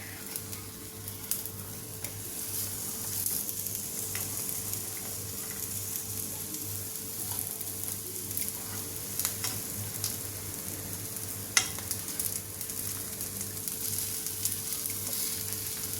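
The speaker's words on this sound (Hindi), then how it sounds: "इसी तरह से हमें टिक्की को सेकना है।" Aloo tikki potato patties frying in ghee in a pan, a steady close sizzle across the whole stretch with occasional light clicks and scrapes.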